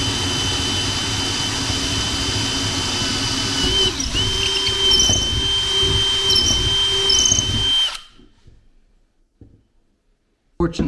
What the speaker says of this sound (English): We just got to drill through this thing and make some drain holes in these 2 pots.